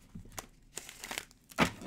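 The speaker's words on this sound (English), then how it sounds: "Struggling here to shuffle." Tarot cards are shuffled by hand, giving irregular crinkly riffling bursts with a louder flurry near the end, close and alone without talk.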